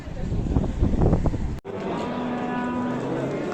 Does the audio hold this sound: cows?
yes